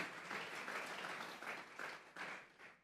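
A church congregation applauds as an offering of praise, a soft, fairly distant wash of clapping that rises and falls in waves for a few seconds with no talk over it.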